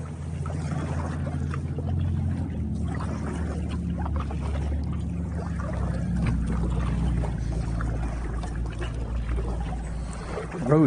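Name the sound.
paddling a Pelican PWR100 kayak on water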